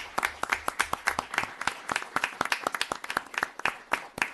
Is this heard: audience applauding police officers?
yes